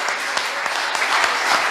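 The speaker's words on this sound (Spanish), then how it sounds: "Denle un aplauso al Señor." A church congregation claps loudly and densely in a brief burst of applause, close and continuous with a few sharper claps standing out.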